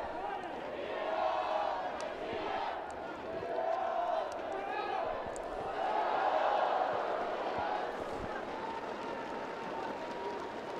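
Stadium crowd at a Paralympic 7-a-side football gold medal match in Beijing, a broad steady roar of cheering and shouting that swells and ebbs, with commentary talk over it.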